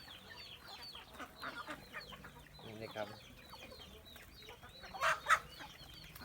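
Native chickens cluck in scattered bursts around a rural Thai farm where ducks and chickens are raised, with someone talking softly over the flock and a few louder squawks near the end.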